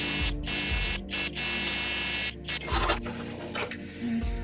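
Sewing machine stitching the side of a tote bag: a loud, close, continuous mechanical whir broken by a few brief stops, then a softer, more uneven run of stitching toward the end.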